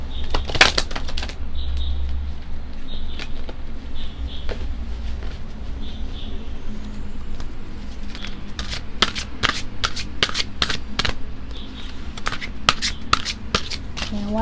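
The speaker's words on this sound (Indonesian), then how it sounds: "Just wanna shuffle this card." A deck of tarot-style cards is shuffled up close, with repeated sharp riffling bursts and flapping clicks in uneven clusters over a quiet room background.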